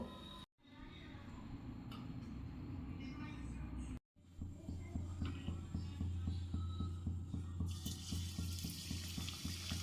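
Palm-leaf-shaped palm fruit pitha deep frying in hot oil, a steady close sizzle with a rhythmic bubbling pulse, broken by two brief drops near the start.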